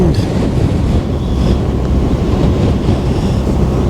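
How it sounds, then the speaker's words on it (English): Strong wind buffets a microphone outdoors on the Norfolk Broads, a loud, continuous low rumble that fills the whole stretch, with no one speaking. "Oh, that wind!"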